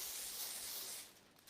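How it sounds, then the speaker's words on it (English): A short, steady hiss of aerosol cooking spray over foil on a seafood lasagne lasts about a second, then tapers off, close and soft. "I might even just give it a quick spray"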